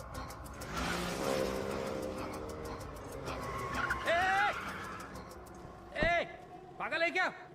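A car drives along a road and brakes, engine noise rising and falling with a short screech as it pulls up, while people talk loudly over it.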